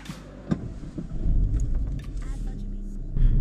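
A Cupra Formentor engine fires up from the steering-wheel start button: a sharp click, then a rising, close rumble that settles into idle and swells again at the end, with a voice talking over it.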